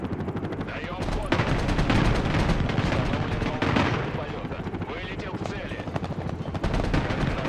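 Battle in the Broken Arrow war game, with dense bursts of gunfire, heavy explosions and a helicopter's rotor, loud and continuous, while someone talks over the combat.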